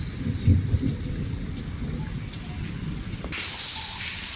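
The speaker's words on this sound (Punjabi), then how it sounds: "ਮੀਂਹ ਪੈ ਰਿਹਾ ਵਾ ਅਸਮਾਨ ਤੇ ਜਿਹੜੇ ਬੱਦਲ ਗੜਕ ਰਹੇ ਨੇ" Steady rain hisses down on a village in Gurdaspur, Punjab, while low thunder rumbles in the distance, with the downpour growing heavier toward the end.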